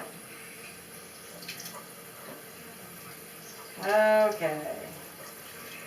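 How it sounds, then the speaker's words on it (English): Tap water runs briefly over green peppers being rinsed in a sink, a short close splash in a quiet room after a single spoken word. "Rinse the peppers."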